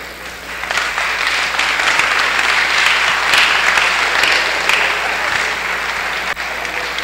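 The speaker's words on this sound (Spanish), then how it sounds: "vamos a recibir con un fuerte aplauso a don Carlos Rubio." An audience at a masculinity congress gives a loud, sustained round of applause welcoming a guest storyteller, with dense clapping rising after a moment and holding steady over a low hum.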